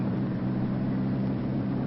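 Convair XF-92A Dart jet aircraft on its first takeoff in 1949, a steady, muffled engine roar with no break in its brief span.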